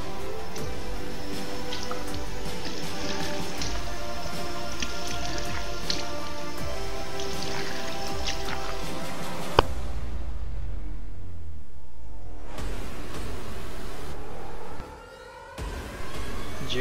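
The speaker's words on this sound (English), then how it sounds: "Did you hear that, guys? That's the sound of sucking" A wet, sucking water effect in the video game League of Legends, dripping and squishing over the game's dense background sound, then a sudden drop into a thinner, sparser stretch.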